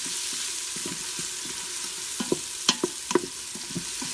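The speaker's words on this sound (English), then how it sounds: "I turned on my Instant Pot and pushed saute" Food sautéing in an Instant Pot on its sauté setting: a steady broadband sizzle with a few sharp utensil scrapes and clicks near the middle, moderately close and with no voices.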